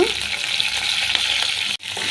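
Curry leaves crackle and sizzle loudly in hot oil with dried red chillies, a steady close-up frying hiss with a brief clatter near the end.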